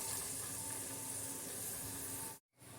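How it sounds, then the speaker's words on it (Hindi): Onion and garlic sizzle steadily in hot oil or ghi for a dhaba-style aloo palak, a close, continuous hiss and crackle that cuts off abruptly near the end. "अब इसमें मैं ये प्याज और लहसुन ये डाल दूँगी।"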